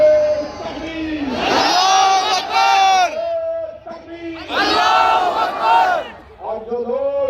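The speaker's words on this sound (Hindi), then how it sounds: "हाथ उठाकर बोलो कि 15 तारीख को मोदी के काले कानून के खिलाफ औरंगाबाद में मेरे साथ नारे तकबीर" A large crowd at a political rally in Aurangabad roars a slogan back in unison, with two loud surging shouts separated by a speaker's voice leading the call.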